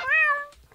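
A single clear, close cat meow rises and falls in under a second, bright and tonal, followed by near silence.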